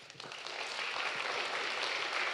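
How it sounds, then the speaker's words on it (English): Audience at a UK–China science and technology summit applauds panel speakers, a sustained wash of clapping that swells and holds steady, moderately far and fairly soft. "Please give them a round of applause."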